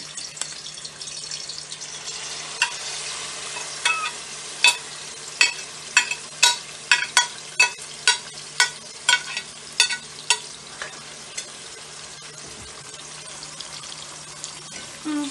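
Dumplings frying in a pan, with a continuous sizzle punctuated by a regular series of sharp utensil clacks and scrapes, close and fairly loud.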